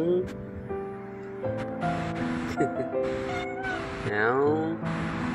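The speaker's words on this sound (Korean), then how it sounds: "야옹" A recovering cat in a home yard meows several times in short rising and falling cries, close and moderately loud over a soft steady background, with a person's voice also present.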